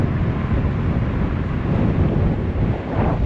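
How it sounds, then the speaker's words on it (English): Steady wind buffeting the microphone, a constant low rumbling roar that fills the whole stretch without pause. "It's windy still, so it's not that bad."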